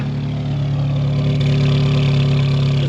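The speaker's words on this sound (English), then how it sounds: "Normally I don't leave the car on when I pump gas, but with this car being the way it is, it might not turn back on" Close, loud, steady idle of a Mk2 Volkswagen Jetta race car left running at a fuel stop, a rough low rumble with no revving and no talk.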